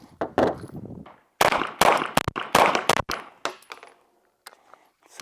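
Pistol shots from a Tisas Px9 Duty Comp and an Echelon 4.0 comp, fired outdoors as a quick string of sharp, loud cracks in irregular bursts with short gaps between.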